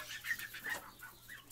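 A Polish breed giant rooster clucks softly and faintly, several short calls in a quiet farm setting.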